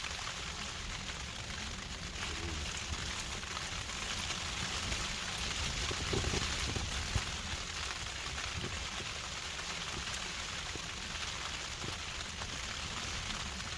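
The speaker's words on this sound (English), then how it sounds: "Raining, windy" Heavy rain and wind beat steadily on a hot tent, a Dome X4, pitched while wild camping in Scotland, making a constant dense patter with low gusty rumble and no talk.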